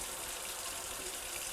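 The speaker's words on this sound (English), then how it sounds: "So I'll go here to the sink and run really hot water on top of that and just rinse them out real good." Hot water runs from a sink tap in a steady, fairly quiet rushing stream that never changes, with no voices.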